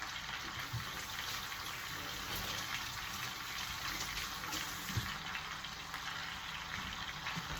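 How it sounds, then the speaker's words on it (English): A kitchen faucet runs steadily while hands are rinsed under it, giving a continuous close splashing gush of water. "Rinse my hands off right quick."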